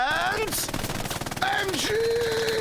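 Machine gun fire in Hell Let Loose rattles in rapid continuous bursts, loud and close, while a voice talks over the shooting.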